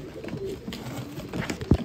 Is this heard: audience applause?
no